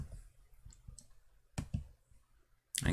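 Computer mouse clicks come as sparse, sharp, close taps, single and paired, spaced irregularly across a quiet background with no speech.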